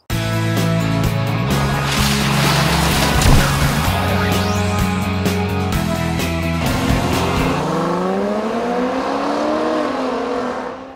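A 2014 Dodge Durango R/T with its HEMI 5.7-liter V8 and 8-speed transmission pulls hard, the engine revving loudly and climbing through gears with a deep steady drone, heard close and alone.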